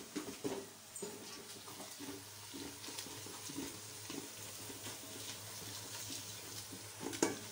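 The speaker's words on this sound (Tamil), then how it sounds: "எண்ணெய் ஊற்றி ஸ்பைசஸ்லாம் போட்டு பச்சை மிளகாய் போட்டு வெங்காயம் போட்டு இஞ்சி பூண்டு போட்டு நல்லா வதக்கிக்கிட்டு இருக்கேன்" Onions, green chilli, ginger and garlic fry in oil for a chicken biryani, giving a quiet, steady sizzle with soft stirring scrapes and occasional clinks, no talking.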